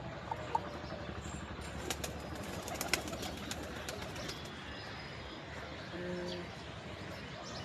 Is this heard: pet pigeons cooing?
yes